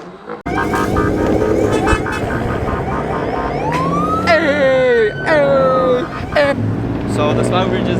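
A police car siren wails and yelps close by after a car meet breaks up, its rising and falling tones sweeping over engine rumble and background chatter.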